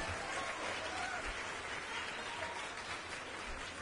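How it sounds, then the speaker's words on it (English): A crowd applauds steadily, a dense wash of clapping heard from a short distance, sustained throughout at a moderate level. "So please give a round of applause for all the people joining us online, live streaming."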